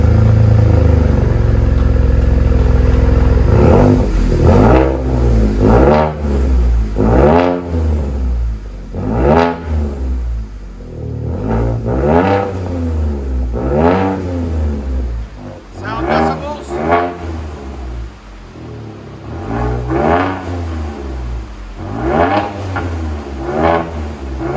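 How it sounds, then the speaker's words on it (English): A 2017 Ford F-150 with the EcoBoost V6 and a Dynomax Race Bullet exhaust, its muffler and tip cut off, revs repeatedly in loud, close bursts that rise and fall in a steady rhythm. "We'll let you guys hear it in a second."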